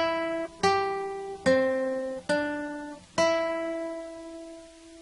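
A guitar picks the Jingle Bells chorus on the first and second strings, five clear plucked notes spaced slowly and evenly, each ringing out and decaying before the next, played alone.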